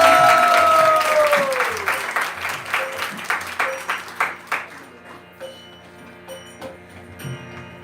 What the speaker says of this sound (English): Round of applause for Keshala.